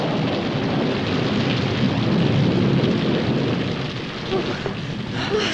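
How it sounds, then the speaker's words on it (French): A thunderstorm roars with heavy, continuous rain and a deep rumbling wash, loud and dense throughout with no distinct breaks. "la pluie commence à tomber"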